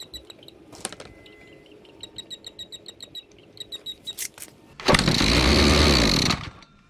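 Makita ER2600L whipper snipper being started: a series of quick pull-start clicks and rattles, then the small two-stroke engine fires and runs loudly for a couple of seconds before cutting back.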